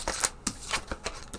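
Tarot cards shuffled briefly up close, a quick series of soft riffling flutters.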